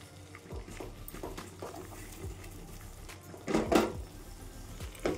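Chana dal and bottle gourd curry seasoned with red chilli powder and salt is stirred and sautéed in a pan, giving intermittent scraping and clattering strokes over a low sizzle, with one louder clatter toward the end.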